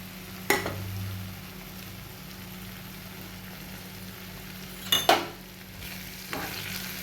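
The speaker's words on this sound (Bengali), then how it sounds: "একটুখানি এটাকে নাড়িয়ে দেবো।" Katla fish cooks quietly in a pan with finely chopped garlic and ginger under a low, faint sizzle, broken by a few sharp knocks of a spoon against the pan near the start and again around the middle.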